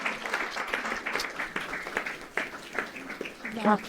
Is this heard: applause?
yes